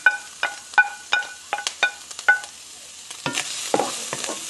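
Onion and garlic being stirred in a pan, with repeated sharp scraping and stirring strokes over a light sizzle, fairly close; no talking.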